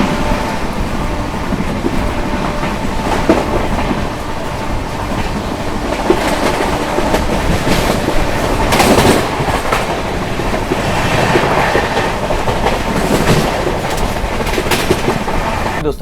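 Purushottam Express passenger train running between Anand Vihar Terminal and Puri, rolling on rails with steady rumbling, rhythmic clickety-clack from the wheels and brief squeals, loud and close from onboard.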